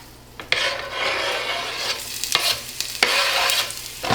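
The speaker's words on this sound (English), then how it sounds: "we'll just let that fry up a little bit" Garlic and onion fry in heated olive oil with a loud, close, continuous crackling sizzle, with several brief scrapes and knocks as they are stirred in the pan. There is no talk.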